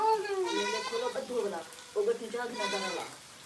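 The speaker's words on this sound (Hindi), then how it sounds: "सैयद भाई हमारी बकरी आपसे ईदी लेने आई है" A goat indoors in a home kitchen lets out two long, wavering bleats, close and clear, with a short pause between them.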